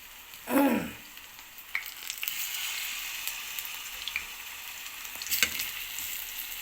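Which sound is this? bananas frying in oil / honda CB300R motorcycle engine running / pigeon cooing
bananas frying in oil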